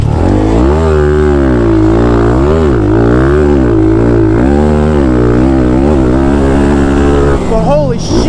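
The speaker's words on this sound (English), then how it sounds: "is it fun to just hold a pit bike absolutely wide open everywhere" Thumpstar TSX140 pit bike engine held at wide-open throttle on a pit bike track, a loud, close, buzzing single-cylinder wail with rising and falling pitch through gear changes and corners, continuous for about eight seconds before easing off.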